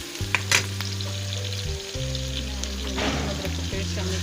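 Onions frying in oil with a soft continuous sizzle and a few stirring knocks near the start, under a loud steady low hum from a nearby appliance.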